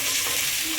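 Ginger garlic paste sizzles in hot oil for a mutton curry, a loud, continuous bright crackling hiss with faint stirring scrapes, close and unbroken, with no talking.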